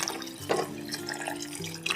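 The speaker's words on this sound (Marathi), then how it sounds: "आता आपण यात गरम पाणी मी घेतलेलं आहे पाणी घालून घेऊया" Hot water is poured into a pot of vegetable pulao rice, a soft continuous liquid splash with a brief louder gurgle, heard faintly close by under a low steady hum, with no talking.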